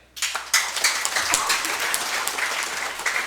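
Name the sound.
audience applause for choir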